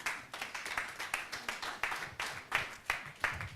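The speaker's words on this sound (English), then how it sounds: "Another round of applause for him." Applause from an audience after a speaker finishes at a political talk, with a steady stream of rhythmic overlapping claps at moderate distance, fairly quiet and without talk.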